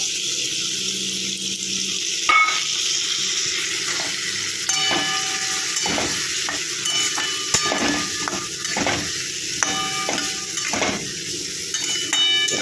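Ground cumin, chilli powder and split green chillies stir-fried with bhetki fish, cauliflower and potato in a pan, giving a steady close sizzle broken by repeated scraping and clinking of a spatula against metal.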